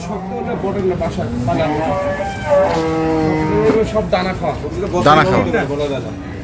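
Buffalo low and moo at a cattle market among other livestock, with several drawn-out calls overlapping amid background chatter from the crowd.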